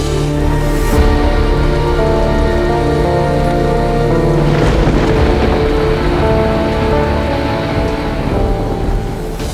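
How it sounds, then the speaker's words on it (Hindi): Heavy rain falls outside in a steady, loud wash that barely changes, with sustained musical tones running underneath. "हाँ आप बाहर बारिश देख रहे हैं ना?"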